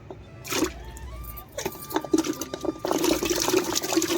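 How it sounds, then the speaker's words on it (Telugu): Freshly harvested turmeric roots from a terrace garden, still muddy, get washed in a container of water, giving close splashing, sloshing and knocking sounds in uneven bursts. "దీన్ని మనం మళ్ళీ ఒకసారి ఇంకొక రెండు మూడు సార్లు వాటర్లో వేసి మంచిగా క్లీన్ చేసుకోవాలి"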